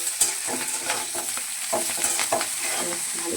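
Beans stir-fried with salt in a pan, a bright crackling sizzle broken by repeated scraping stirs, close and moderately loud, with no talking.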